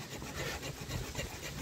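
Leatherman ARC multitool saw cutting through a dry, hard apricot branch, a steady, quiet rasping stroke repeated in an even back-and-forth rhythm.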